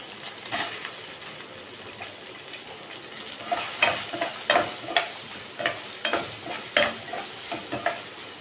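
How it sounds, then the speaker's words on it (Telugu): Chopped onions fry in oil for aloo rice, a steady close sizzle broken by repeated scraping and stirring knocks against the pan, with no one talking. "ఇవి వేగిన తర్వాత మనం ముందుగా కట్ చేసి పెట్టుకున్న ఆనియన్స్ వేసుకుందాం."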